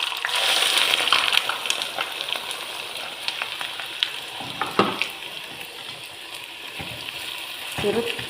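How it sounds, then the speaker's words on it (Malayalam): Ginger frying in oil over low heat: a continuous soft sizzle and crackle close by, with occasional clinks and stirring touches and a few louder bursts near the end, no talk. "നമുക്ക് ഇഞ്ചി മൂപ്പിക്കാൻ ഇടാം."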